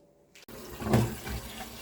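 Water is poured into a pot for cooking Indomie noodles, a steady close splashing stream that starts abruptly after a brief clunk and runs on without talk.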